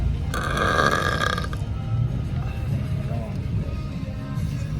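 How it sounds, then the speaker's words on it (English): A man burps loudly and close up inside a car, with one long guttural belch that leads into more low throaty rumbling, while the idling vehicle hums underneath. "I'm gonna burp again"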